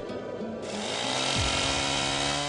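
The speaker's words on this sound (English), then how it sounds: "The roar of chainsaws signal the death of an ancient forest, the felling of a great tree." Chainsaws roar steadily in an ancient mountain forest as a great tree is felled, a dense continuous engine drone with a pitch that shifts and drops partway through, loud and close.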